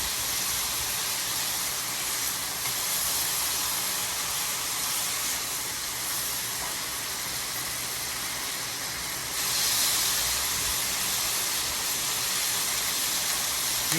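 Steak searing in a hot pan gives a steady, fairly loud broadband sizzle and hiss that runs without a break and swells slightly near the end, with no voices over it.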